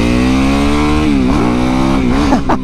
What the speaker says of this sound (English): Every time I'm laughing and grinning every time I ride this bike.